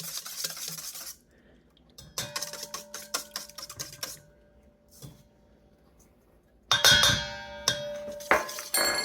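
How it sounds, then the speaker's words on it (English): Eggs and granulated sugar substitute whisked in a bowl for a pecan pumpkin crisp: quick runs of close, bright metallic clicking and tapping, broken by short pauses, with a louder burst of clatter near the end. "Let me whisk these eggs up a little bit."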